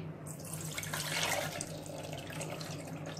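Soaked sabudana (sago pearls), left in water for 10 to 15 minutes, being drained through a strainer: a close, steady rush of pouring and splashing water that runs without a break for the whole stretch, with no talking.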